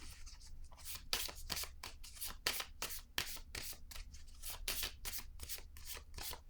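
Tarot cards shuffled by hand in a steady run of crisp, rapid riffling bursts, each a short papery slap, repeating evenly and close up with no talking.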